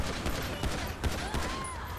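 Gunfire in GTA 5 with the LSPDFR police mod during an officer-down shootout: sharp shots crack out in quick bursts over a steady, dense background din.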